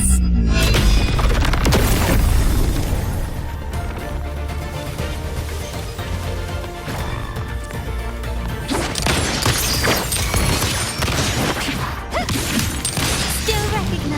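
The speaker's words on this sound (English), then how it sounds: "Cluster cannon ready." A cluster cannon in Wuthering Waves fires in heavy booming blasts with crashing impacts, loud and sustained amid dense game effects and music.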